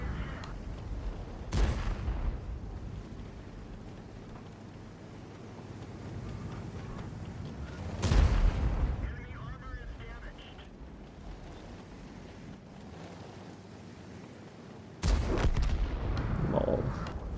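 Video game gunfire comes in three loud, booming bursts spaced several seconds apart, each fading into a steady low rumble of background noise.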